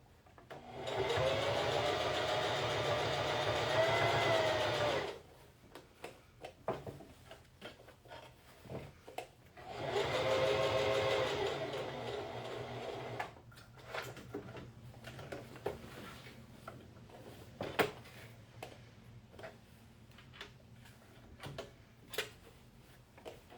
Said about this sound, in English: drop the presser foot and keep sewing